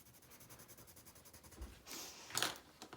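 A rainbow pencil scratches across paper in short, faint strokes, quiet scribbles with a couple of brief louder scrapes near the end and no one talking.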